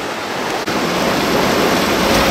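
Turbulent water rushes steadily below a dam, a dense, continuous roar close by, with no voices.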